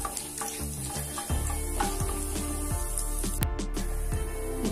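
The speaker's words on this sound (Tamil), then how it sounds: "அடுத்து கடலைப்பருப்பு சேர்த்துக்கலாம் சேர்த்துட்டு இத வந்து லைட்டா ஃப்ரை பண்ணிருங்க" Chana dal frying in hot oil in a pan, giving a steady close sizzle with periodic scrapes and taps of a spatula stirring through it, no speech.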